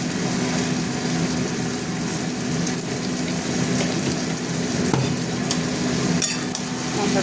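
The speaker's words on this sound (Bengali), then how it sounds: "মশলাটা কষা হবে" Spices sautéing in a pan with spiced water and salt for a jackfruit and prawn curry, a steady moderate sizzle and bubbling with occasional stirring scrapes, no talking.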